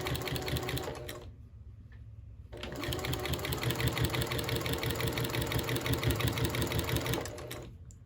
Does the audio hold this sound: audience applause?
no